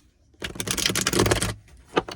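Tarot cards are shuffled close up in one quick, dense riffling burst of papery flutters lasting about a second, followed by a couple of softer taps, with no talk.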